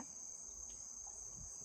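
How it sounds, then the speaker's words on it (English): Crickets chirping at night at the edge of a tree line, a steady high continuous trill at low volume with no other sounds. "sound of crickets and frogs"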